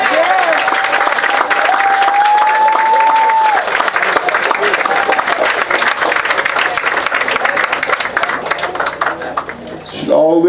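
An audience at a recognition ceremony claps in dense, sustained applause that fills the room for about ten seconds before thinning out at the end, with a voice heard briefly under the clapping.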